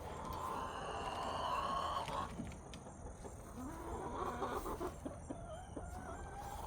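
Chickens cluck and murmur in the background, a few short calls rising over steady ambient noise, fairly quiet with no talk.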